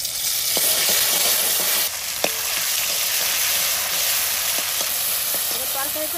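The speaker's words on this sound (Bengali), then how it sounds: "ফোড়ন দেবো, এবার তেল দিচ্ছি, তেজপাতা, শুকনো লঙ্কা, জিরে" Bay leaf, dried chili and cumin hitting hot oil in a home kitchen pan, a steady loud sizzle with scattered crackles and a few stirring clicks, close by.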